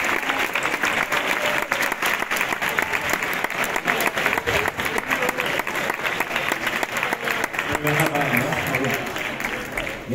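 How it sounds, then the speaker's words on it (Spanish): Sustained, dense applause from an audience at a 3x3 basketball tournament award ceremony honoring a former NBA player fills the whole stretch, with a voice briefly audible over the clapping near the end. "Un gran aplauso."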